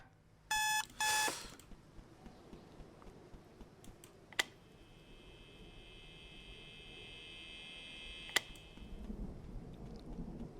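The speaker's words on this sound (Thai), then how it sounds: "เดี๋ยวนาฬิกาจะดังอีกแล้วเนี่ย" In the horror game Residence Massacre, an alarm clock rings in two short, loud bursts at the start, followed by keyboard typing and intermittent clicks over a rising background drone.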